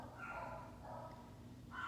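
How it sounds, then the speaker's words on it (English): Dogs bark faintly in another room, three muffled woofs spread over a couple of seconds beneath a low indoor hum, with no talking. "Sorry if you hear my dogs barking."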